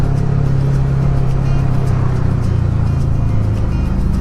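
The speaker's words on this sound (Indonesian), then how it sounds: "Waduh, ada mobil Alphard." A Toyota Alphard passing on a rough adventure road near Rumpin, giving a loud, continuous close-up rumble of engine and tyre noise that holds steady throughout.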